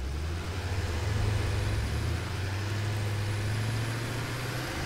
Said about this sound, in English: Just squish it with the tractor.